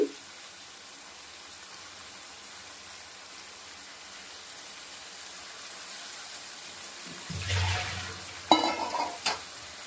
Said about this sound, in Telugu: ఇవి ఒకసారి కలుపుకున్నాము అల్లం పేస్ట్ మంచిగా ఆయిల్లో ఫ్రై అయింది కదండి